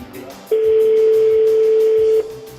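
A telephone call placed to Arnaud Montebourg rings out as one long, loud, steady tone lasting nearly two seconds, clear and close, then cuts off abruptly with no talk over it.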